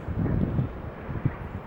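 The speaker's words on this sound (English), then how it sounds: "It's a bit windy, sorry if you can't hear me." Gusty wind buffets an outdoor microphone at a day-ticket carp fishing lake in rainy weather, a low rumbling roar with a couple of sharper thumps, fairly steady throughout.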